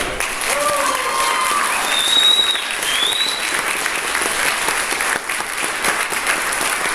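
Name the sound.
audience applause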